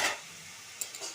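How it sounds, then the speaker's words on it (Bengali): Potatoes fry in oil in a home kitchen, a faint steady sizzle with a brief stir or utensil clink near the start and a couple of small taps later. "আমি আলুগুলো ভাজতে দিলাম।"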